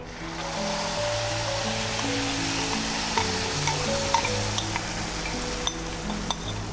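Pumpkin pulp frying with cumin in a pan, giving a steady hiss with occasional light clinks of a spoon stirring, over a sustained background of music-like tones, no voices.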